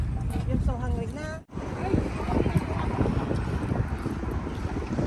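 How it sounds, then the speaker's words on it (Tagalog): Gusty wind buffets the microphone in a steady, rough roar outdoors in Antwerp, with a voice speaking briefly at the start and a momentary dropout. "Sarap ng hangin."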